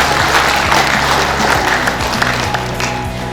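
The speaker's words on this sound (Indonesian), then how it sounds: "Sekali lagi tepuk tangan untuk kita semua." Conference audience applauding at an international Islamic community studies event, a dense, steady wash of many hands clapping at full volume for the whole stretch, with a low hum running underneath.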